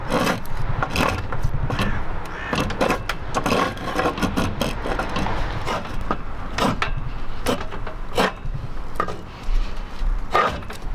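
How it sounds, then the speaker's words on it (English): A spokeshave shaping a wooden neck for a cigar box guitar makes repeated scraping, rasping strokes of blade on wood, fairly close and steady, with a few sharper catches and no talk. "Using a spoke shave to get the sort of rough shape of the neck done."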